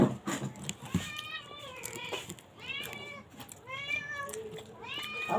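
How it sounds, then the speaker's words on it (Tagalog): A small pet cat meows repeatedly and plaintively up close, several wavering cries in a row with faint household background noise. "Yung pusa namin na malambing na maliit."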